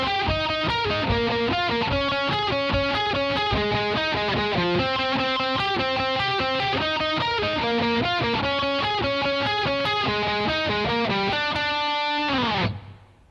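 A distorted electric guitar plays the guitar 1 part of an interlude, a loud, steady run of fast repeating notes that stops abruptly near the end, with no voices.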